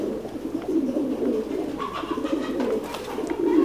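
Thai Titan meat pigeons coo repeatedly in low, throaty rolls at a pigeon farm in Đắk Lắk, Vietnam, with several birds calling close by at once.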